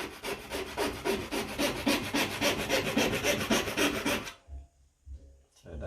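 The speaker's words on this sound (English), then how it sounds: "saw and we will hopefully cut this straight" Hand saw cutting through a piece for a robot waist, with quick, rhythmic rasping strokes close by that stop abruptly, leaving a few soft knocks and handling sounds.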